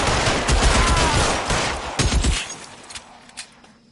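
Bursts of video game gunfire crackle in rapid volleys, loud and dense at first, then thinning into scattered shots and fading toward the end, with no talking.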